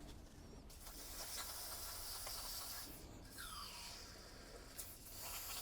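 Fogging oil sprays in long steady hissing bursts onto solenoids from a BMW E70 X5 V8 engine. The hiss is close and continuous, with brief pauses and small squeaks.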